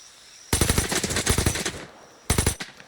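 Video game automatic gunfire in a jungle survival shooter: a loud sustained burst of rapid shots, a short pause, then a second brief burst, close and without speech.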